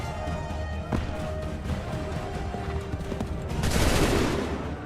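Musket volleys fired by soldier lines in Assassin's Creed III, a dense crackling burst of gunfire swelling loud near the end, with battle din throughout.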